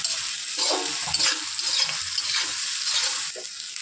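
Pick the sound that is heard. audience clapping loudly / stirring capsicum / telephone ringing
stirring capsicum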